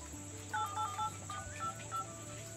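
A quick series of electronic keypad beeps, short two-tone pips in an irregular rhythm, over a steady low hum.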